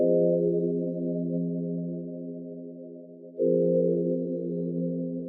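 An electric piano keys sample holds a soft, mellow chord for a few seconds that slowly fades, then a second chord is struck and sustains, quiet and alone, for a melodic ambient beat.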